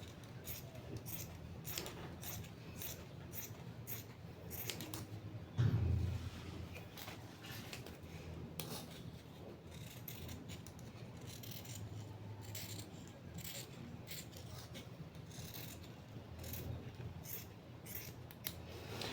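Scissors cutting out sticker dress pieces, a steady run of short snipping cuts at close range with one louder clunk partway through.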